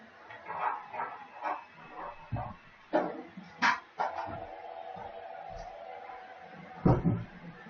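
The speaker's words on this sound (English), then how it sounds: "the dog is barking, which means he wants something" A dog barks somewhere in a home, with several muffled woofs and yips scattered over a few seconds. The sound is faint and distant, as if from another room.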